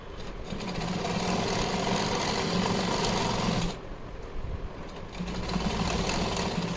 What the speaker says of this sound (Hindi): अब चारों तरफ से इसमें ही सिलाई लगा देंगे तो ये हमारा अस्तर और फैब्रिक बिल्कुल अटैच हो जाएगा।